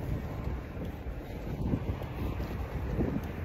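Strong, cold night wind of about 8 degrees by a flag and watchtower in New Zealand, a loud, steady rush buffeting the microphone throughout with no voices.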